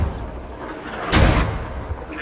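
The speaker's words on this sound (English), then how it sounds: "Mortars are still raining out of that hab there. You can hear them dropping hard." A mortar round exploding in a battle video game, one heavy booming impact with a short rumbling tail over a low background.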